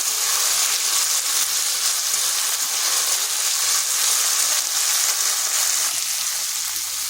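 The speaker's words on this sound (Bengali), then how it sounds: "বরবটিটা হাই আছে 3 থেকে 4 মিনিট একটু ভেজে নিলাম" Yard-long beans frying in a pan on high heat, giving a steady, close sizzle with a continuous crackling hiss that holds even throughout, with no talking.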